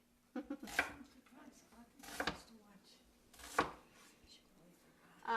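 A knife chops food on a board for coconut jerk chicken, with a few separate sharp thuds at irregular intervals and some quiet speech between them.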